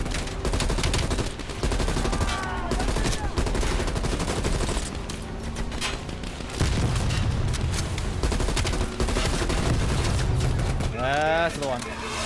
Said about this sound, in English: I'm shooting into the turret.